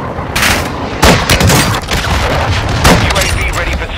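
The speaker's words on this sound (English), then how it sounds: "Friendly cruise missile approaching target." Cruise missile strike explosions in a shooter video game: loud, heavy booms roll in close succession with crackling gunfire mixed in, thick and continuous, while voices call out over the noise.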